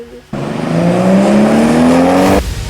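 A car engine in Minecraft roars up loudly and steadily, its pitch climbing as it accelerates, then cuts off abruptly after a couple of seconds.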